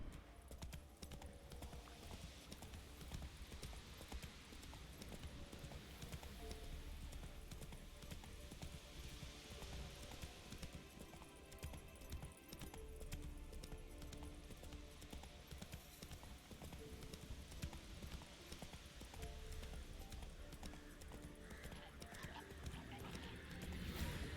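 Hooves of Roach, the horse in The Witcher 3: Wild Hunt, clip-clop in a steady gallop for the whole stretch, with an occasional whinny, over a constant game backdrop and no talk.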